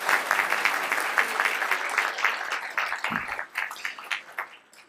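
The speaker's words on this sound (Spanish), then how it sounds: "si gustan aplaudir nuevamente" Applause rings out at a university medal ceremony, a crisp, close round of clapping that loosens and fades toward the end, with a brief voice partway through.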